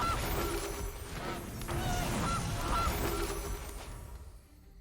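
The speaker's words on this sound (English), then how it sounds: "That's a lot of geese." Geese honk repeatedly in a Magic: The Gathering Arena game as triple Gilded Goose cards hit the board, a cluster of quick, close honks over a busy game soundscape that fades toward the end.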